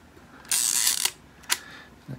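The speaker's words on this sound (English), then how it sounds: "I can cock it and fire the shutter." An Argus camera's leaf shutter, mounted behind a bayonet-mount interchangeable lens, being cocked with a longer ratcheting mechanical sweep and then fired with one sharp click, followed by a faint tick; the whole action is quiet and close.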